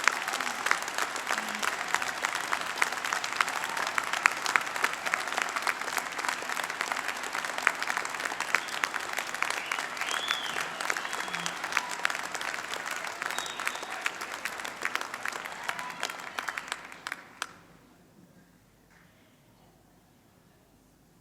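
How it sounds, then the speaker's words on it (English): A large audience at a university degree ceremony in Brighton gives graduates a sustained round of applause, a dense, even wash of many hands clapping for about seventeen seconds before it abruptly fades into near silence. "Let's give them a huge wave and round of applause."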